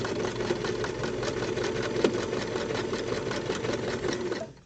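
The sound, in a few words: sewing machine stitching straps along seam line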